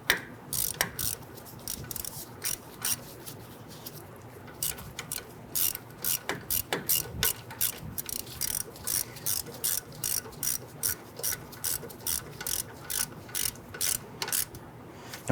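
A ratchet tightens a front lower ball joint bolt on a 1994-2004 Ford Mustang: quick bursts of close, crisp clicking, repeated in short regular strokes with brief pauses.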